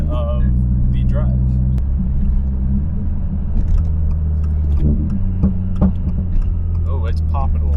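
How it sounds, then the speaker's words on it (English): 2022 Subaru WRX on E8 fuel with its exhaust grumbling at a low steady rumble and scattered small pops, heard from inside the car while people talk over it. "Oh, it's popping a little more. Oh, it's kind of grumbling."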